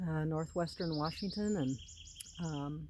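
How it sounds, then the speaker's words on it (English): Birdsong outdoors on an April day in northwestern Washington, with bright chirps and whistled phrases scattered in the background beneath someone talking close by. "you can hear the birds singing"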